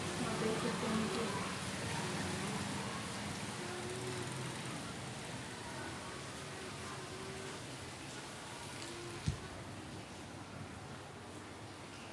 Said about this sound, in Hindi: बहुत ज़्यादा बारिश हो रही है इस टाइम